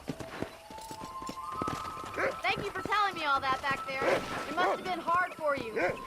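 In the Red Dead Redemption video game, horse hooves clip-clop in a steady rhythm, continuous and at moderate volume, while people talk over them for most of the stretch.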